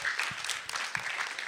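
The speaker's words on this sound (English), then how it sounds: "Let's give them a round of applause right now." Students in a high school class clap briefly for their classmates, a short, moderately loud patter of hand claps filling the room.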